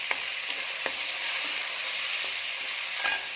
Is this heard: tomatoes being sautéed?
yes